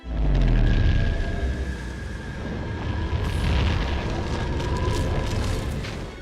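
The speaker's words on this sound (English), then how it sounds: "The Starkiller weapon itself had to be bigger than the Death Star firing." The Starkiller superweapon from Star Wars: The Force Awakens fires with a massive, roaring blast that swells into a deep, sustained rumble, followed by crackling, sizzling debris bursts that slowly fade.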